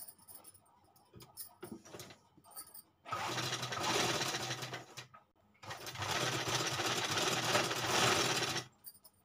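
A sewing machine stitches fabric from the reverse side in two long, steady bursts of rapid mechanical whirring, with quieter handling clicks and pauses before and between them.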